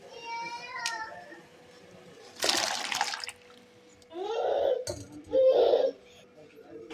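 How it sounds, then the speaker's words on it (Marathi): Potato chips are dropped into hot, boiling water, making short splashing bursts between stretches of talk. "यामध्ये आपण चिप्स टाकून घेऊया."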